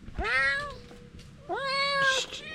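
Two drawn-out meows from a newly adopted cat at a rural house build in the Philippines, each rising then sliding down, close and loud with a short pause between them.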